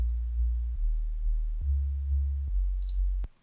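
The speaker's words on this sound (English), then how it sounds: "Step one, just a sine wave." A deep, pure sine tone from a Serum synth preset in FL Studio hums steadily low in pitch, stepping between a few notes with soft clicks at each change, then cuts off abruptly.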